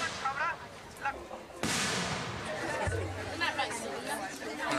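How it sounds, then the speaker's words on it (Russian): A sharp firework blast bursts over the crowd at a Maya religious procession, followed by sustained crackling noise while the crowd chatters throughout. "Это фейерверк."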